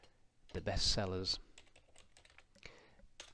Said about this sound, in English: press the enter key once I finish typing